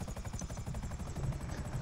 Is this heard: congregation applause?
no